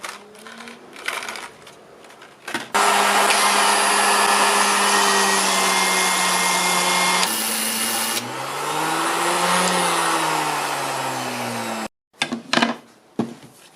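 A power grinder flattening the head of a steel bolt runs loud and steady for about nine seconds with a high whine that shifts pitch midway, after a few short bursts of handling noise, then cuts out to quieter clatter.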